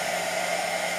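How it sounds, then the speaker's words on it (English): A hair dryer runs on its low setting, giving a steady, even whirring blow of air that holds constant throughout the short stretch. "you come over with your hairdryer and you turn your hairdryer on"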